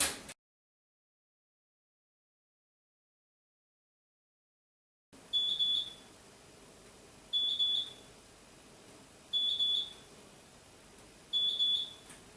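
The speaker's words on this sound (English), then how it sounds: "so I'll just put the timer on for 5 minutes" A kitchen timer set for five minutes goes off with short bursts of high electronic beeps, four evenly spaced groups after a stretch of silence, fairly loud and alone.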